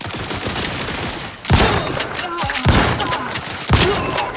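Rapid, loud gunfire in The Outer Worlds 2 at a monastery, with a continuous volley of shots punctuated by heavier thumping bursts, under scattered game voices.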